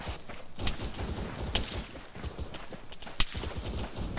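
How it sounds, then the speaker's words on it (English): Gunfire in an Arma armored-combat game: sharp cracks and bursts of shots, some close and loud, others more distant, over a rumbling, busy battlefield background. "I'm still getting shot at."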